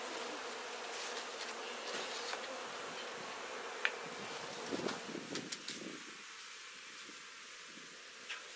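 Many bees at an open-air hive buzz steadily and fairly softly, a continuous droning hum with occasional louder passes and faint rustling.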